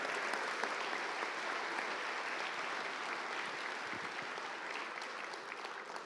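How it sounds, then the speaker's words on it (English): Audience applause for silver medalists at the ReaperCon 2023 miniature painting awards ceremony, a steady sustained clapping from a crowd indoors, fairly loud and even throughout. "Let's get a round of applause for those silver medalists."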